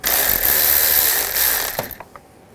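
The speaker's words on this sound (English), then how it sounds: "Using a 10mm socket, loosen up this worm clamp" A hand ratchet with a 10mm socket loosening a worm-gear hose clamp on a 2004-2009 Toyota Prius: fast, close clicking for nearly two seconds, then a couple of faint ticks and quiet.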